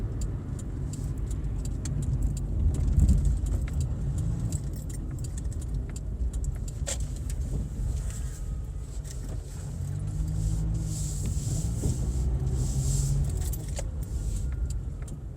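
A Toyota car is driving on a test drive with a steady, low road and engine rumble throughout. Light metallic jingling and ticking rattle sit over the rumble from inside the cabin, and no one speaks.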